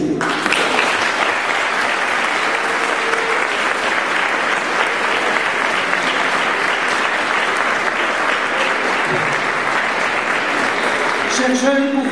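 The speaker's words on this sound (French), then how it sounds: "Toutes et tous méritent vos applaudissements" Audience at a children's event giving long, steady, loud applause from a large crowd, with a voice coming in briefly near the end.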